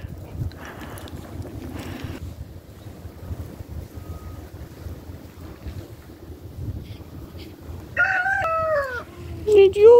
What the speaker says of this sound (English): It's the crazy rooster.